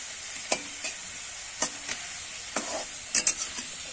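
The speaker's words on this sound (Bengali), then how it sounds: "লাল লাল করে আলুটা ভেজে নেব" Potatoes frying in oil until reddish-brown, a soft steady hiss broken by several sharp spatters and pops scattered across the clip.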